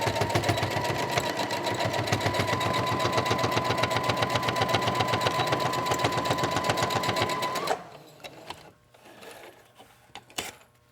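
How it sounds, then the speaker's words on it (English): A sewing machine stitches a quarter-inch seam in one long, fast and even run of mechanical needle chatter, loud and close, then stops, leaving a few scattered handling clicks. "we're going to be sewing a 1/4 inch"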